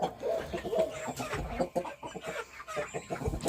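Chickens clucking in short, busy bursts close by, with Wyandotte roosters' calls mixed into the general farmyard noise.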